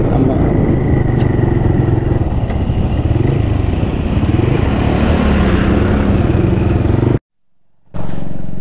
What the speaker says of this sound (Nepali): तेल सकेला सकेला जस्तो भइरहेछ, स्टार्ट बन्द होला स्टार्ट बन्द होला जस्तो भइरहेछ है बाइक चाहिँ